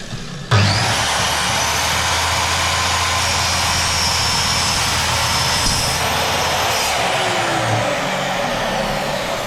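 A drop saw fitted with a wood blade spins up abruptly, then cuts slowly through aluminium with a loud, steady, close high-pitched whine and screech that holds for several seconds.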